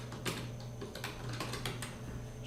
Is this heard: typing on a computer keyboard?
yes